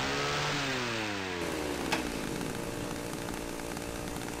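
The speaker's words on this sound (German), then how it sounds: "Dann hören wir uns nochmal das gefährliche Knattern der Kettensäge an." Chainsaw in the horror video game Cry of Fear, a loud steady engine drone with rattling harmonics that shift in pitch early on, then settle into a continuous buzzing roar alone with no talk.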